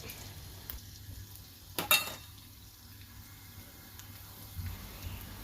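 Thai garlic hisses in moderately hot oil over medium heat, a faint, steady sizzle with a few small pops and crackles and no talking.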